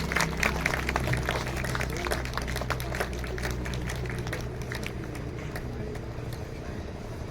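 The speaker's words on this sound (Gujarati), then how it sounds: "જોરદાર તાળીઓથી આપણે વધાવશું શ્રી દિલીપભાઈ" A crowd at a retirement party claps loudly to welcome a guest. Dense applause is strongest at first and gradually thins and fades toward the end.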